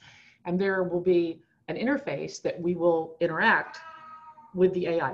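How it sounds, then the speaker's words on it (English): A cat meows a few times, its cries mixed in with and partly masked by a man's continuous lecture-style speech. "And that's my cat, tell him thank you"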